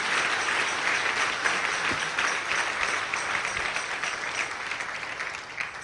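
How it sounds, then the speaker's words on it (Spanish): Church congregation applauding steadily during a worship service, a dense and sustained round of clapping that fills the room with no voices standing out, tapering slightly toward the end. "Dale un fuerte aplauso al Espíritu Santo de Dios."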